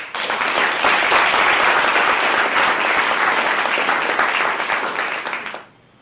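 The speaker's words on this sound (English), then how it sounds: "Let's give them a big round of applause." A large audience gives a big, sustained round of applause at a community alliance event, dense clapping holding steady and loud for over five seconds before stopping abruptly.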